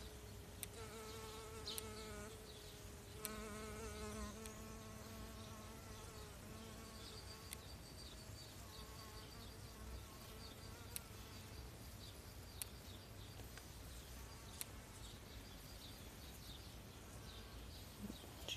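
Soft, steady buzzing of bees around pruned sage flowers drifts outdoors, faint and continuous, with a few distant bird chirps now and then.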